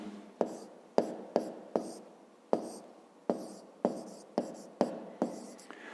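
A pen writes in a school notebook while working a fifth-grade maths exercise. About a dozen short, crisp scratching strokes come in an uneven rhythm, each ending in a quick tail, close by and with no talking.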